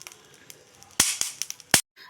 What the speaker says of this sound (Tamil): இந்த கல் உப்பும் கொஞ்சம் வெடிக்கணும்